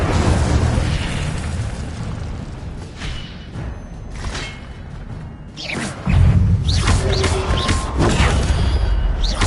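Incendio fire spell cast in a Harry Potter video game: loud whooshing fiery bursts and booming rumbles, a fresh heavy blast arriving partway through, dense game sound effects throughout.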